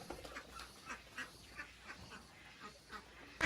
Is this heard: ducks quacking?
yes